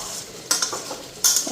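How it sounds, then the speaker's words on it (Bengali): A spoon stirs spice masala with turmeric and salt as it fries in a pan, making two sharp metallic scrapes and clinks over a soft, steady background hiss. "তো মশলাটা এখন ভালো করে ভাজা হোক"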